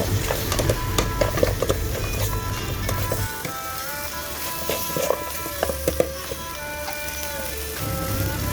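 Pork rib bones stirred with curry paste for a Thai sour bamboo shoot curry, a steady crackling sizzle with scraping and clinking of the spatula against the pan, moderately close, with no voices.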